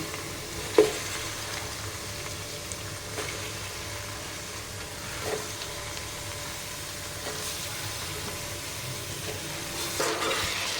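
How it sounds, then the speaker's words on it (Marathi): Chicken pieces drop into hot oil with turmeric and coriander for a Malvani chicken curry, and a steady sizzle fills the pan, with a few soft clinks and stirring sounds. "आणि आता इथे थोडं थोडं चिकन टाकून घेऊया."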